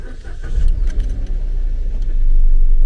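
A Kia car engine turns over and settles into a steady, loud idle rumble close by, growing slightly stronger toward the end.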